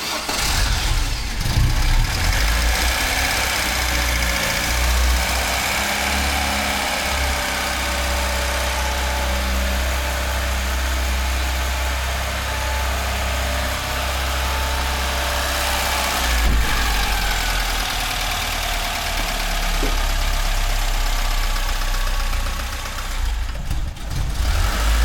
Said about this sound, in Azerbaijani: Motor falan səs